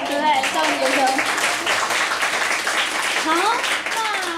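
An audience claps warmly to thank a speaker at a talk, a dense, steady patter of many hands running throughout, with voices sounding over the applause near the start and again toward the end.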